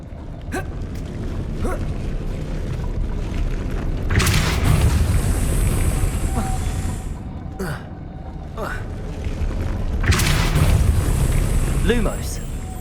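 In Hogwarts Legacy, the Depulso spell is cast as loud, booming blasts that rise out of a dense, rumbling game soundscape. Two heavy bursts stand out several seconds apart, with smaller thuds and effects scattered between them.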